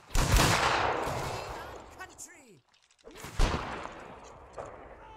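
Two loud rifle volleys crash out in Mount & Blade Warband's Anglo-Zulu Reloaded mod, each a dense burst of overlapping shots with rumbling tails. A short lull with faint voices falls between them.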